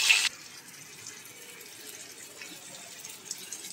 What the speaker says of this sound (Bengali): একটু গরম পানি দিচ্ছি